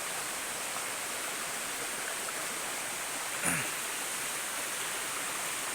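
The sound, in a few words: forest stream flowing over rocks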